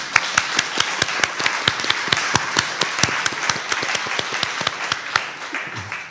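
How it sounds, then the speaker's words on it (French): Church congregation clapping in unison to praise the Lord, a sharp regular beat of about three claps a second, close and evenly paced, fading out at the very end. "on va applaudir le Seigneur."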